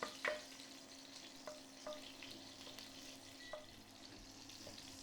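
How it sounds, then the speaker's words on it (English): Food fries in a little hot oil in a pan, a faint, steady sizzle with a few soft clicks of stirring. "I'm going to just fry them in this little bit of oil here"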